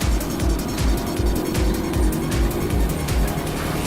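A car speeds along during a chase scene in a Hindi-dubbed South Indian horror film, its engine roaring loudly and closely with a rhythmic pulsing drone and no speech over it.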